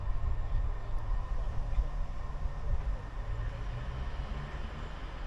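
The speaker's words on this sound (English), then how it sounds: "here's the train coming in." A train rumbles into Newtown station in Powys, Wales, with a steady low roar and broadband hiss, continuous and moderately loud for several seconds.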